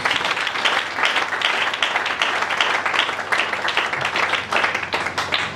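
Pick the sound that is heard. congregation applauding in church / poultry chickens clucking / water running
congregation applauding in church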